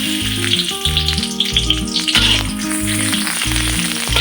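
Chopped onions drop into hot oil and fry with a steady sizzle, heard beneath loud, rhythmic background music for a fish-head curry, no one speaking.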